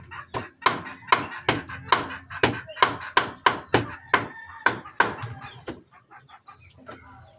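Young chickens on a Philippine farm, a rapid run of sharp, evenly spaced clucks close by, then a few fainter, scattered calls as the sequence trails off.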